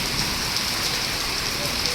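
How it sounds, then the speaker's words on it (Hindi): A heavy monsoon-style downpour in India has been pouring for some 15 to 20 minutes, making a dense, steady hiss of rain drumming on surfaces with no pause. "आप देख लो बारिश इतनी तेज हो रही है जबरदस्त"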